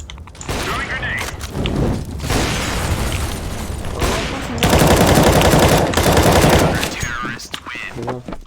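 Video game firefight with a thrown grenade, loud bursts of rapid gunfire and a booming blast filling the clip, with voices shouting intermittently between the shots.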